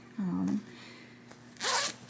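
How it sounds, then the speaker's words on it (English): Two quick zipper pulls on a sewn-in inside pocket of a handmade tote bag, close and crisp, separated by a pause with faint room noise. "on the inside, I just sewed in a pocket, like a zipper pocket here"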